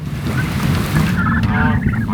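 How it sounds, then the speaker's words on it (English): A flock of pastured homestead turkeys gobbles loudly and close by, overlapping warbling gobbles rolling continuously with no talk over them. "These turkeys are starting to get way too big."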